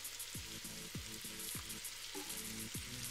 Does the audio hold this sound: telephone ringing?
no